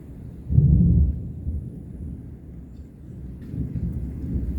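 A thunderstorm in rainy season rolls a loud burst of thunder close by, then a softer rumble returns under steady rain and wind noise, with no talking.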